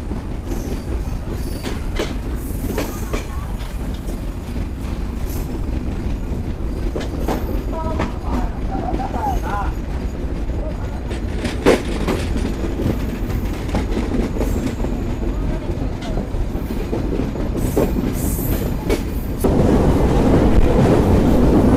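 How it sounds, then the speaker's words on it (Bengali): The Kapotaksha Express rolls along the rails after leaving Chuadanga station, with a continuous rumbling clatter of wheels, occasional sharper clicks and squeals, and wind buffeting the microphone near the carriage. "বিকেল 5:19 আমাদের ট্রেন ছেড়ে গেল চুয়াডাঙ্গা রেলওয়ে স্টেশন থেকে"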